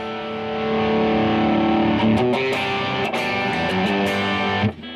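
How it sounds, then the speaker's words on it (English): An electric guitar played through a pedal with the gain cranked gives a thick, heavily distorted sustained chord, then sharp picked strums, loud and steady with no talking. "Okay, very distorted sound."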